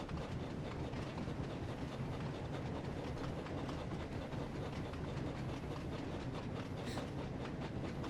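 A freight train from the Thomas & Friends: Wonders of Sodor video game rumbles along its tracks, a loud, continuous roar with dense clattering wheel noise and no talking.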